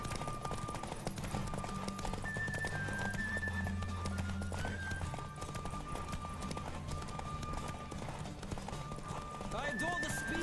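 Hooves of a horse galloping in The Witcher 3: Wild Hunt, a steady fast clip-clop running through the whole stretch beneath game music, with voices mixed in.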